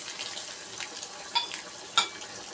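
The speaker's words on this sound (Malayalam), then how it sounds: "കുറച്ച് ഉലുവ ഇട്ട് കൊടുക്കാം. കുറച്ച് ഉണക്കമുളക് ഇട്ട് കൊടുക്കാം." Fenugreek seeds and dried red chillies sizzling in hot oil in a pan, a steady close crackling hiss with a few sharper pops and stirring scrapes, no talking.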